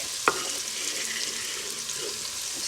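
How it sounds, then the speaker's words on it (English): Two large onions hit warm oil in a pan, giving a soft, steady sizzle and crackle with a faint clatter near the start; quiet and close, no talking. "I'm going to add, I've got 2 large onions. Oh, nice old sizzle"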